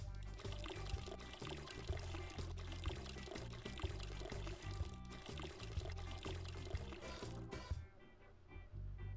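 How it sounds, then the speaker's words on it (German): Water pours steadily while plants are watered in the video game Weed Shop 2, running under a game music backing with a beat, then stopping abruptly near the end. "Schade, dass man fürs Gießen keine Punkte kriegt."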